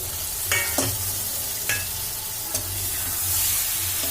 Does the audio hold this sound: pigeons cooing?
no